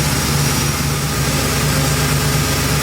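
Small Block Chevy V8 with a Tech EFI throttle body system idling while it warms up, a steady, loud, close low rumble with an even pulsing beat throughout and no talking.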